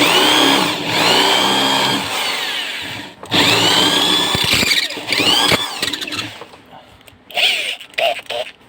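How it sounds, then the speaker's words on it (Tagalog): A power drill whirs and squeals loudly in long bursts while removing a washing machine bushing, pausing briefly, then gives shorter stuttering runs near the end. "Pero gamit tayong barena para mas mabilis po tayo."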